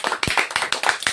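A church congregation claps rhythmically in praise, a quick run of sharp, close handclaps with no voices.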